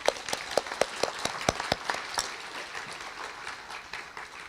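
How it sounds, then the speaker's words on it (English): Scattered audience clapping for the panelists at an education panel, a series of sharp, fairly sparse claps that thin out into a softer patter, moderately distant with no speech. "A huge round of applause for our panelists."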